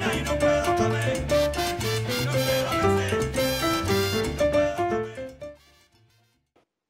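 A salsa piano plays a four-note montuno pattern along with a backing salsa track, the syncopated piano figure repeating in a bright, driving rhythm over bass and percussion before everything fades out near the end.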